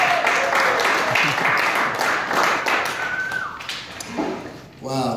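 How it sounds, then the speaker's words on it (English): An audience at a live spoken word poetry event at an arts center claps together in a loud, dense burst of applause, with voices calling out over it and someone speaking near the end. "Come on, clap your hands, do something."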